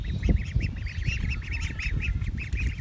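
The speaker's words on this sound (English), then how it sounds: "Aren't you pretty baby ducks?" Ducklings quacking and peeping rapidly in a steady chattering stream, close by, with low rumbling noise underneath.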